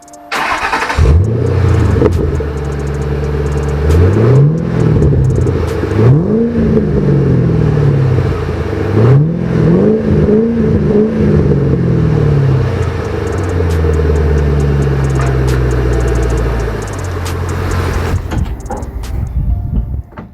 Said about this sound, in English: let's now listen how this Borla exhaust mufflers sounds on the car